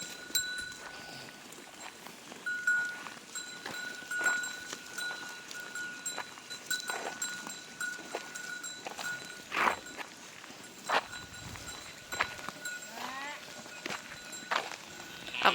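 Cattle being herded on foot in China, with scattered hoof steps and shuffling close by over a faint outdoor background, plus occasional short calls and knocks, no clear talk.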